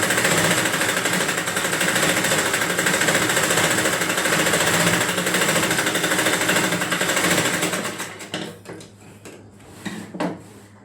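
A simple sewing machine stitches a petticoat in one loud, continuous close-up run, then stops, leaving a few clicks and knocks of handling.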